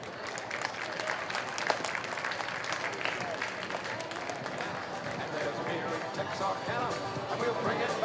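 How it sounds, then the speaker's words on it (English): A crowd of baseball fans gives a sustained round of applause at a Frontier League Hall of Fame induction ceremony, dense steady clapping with cheers filling the stadium throughout. "Fans, let's give a big round of applause to the newest Frontier League Hall of Famer"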